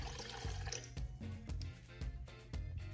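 One and a half cups of water are poured into a pot for butterfly pea tea bread, a faint splashing and gurgling with a few soft knocks.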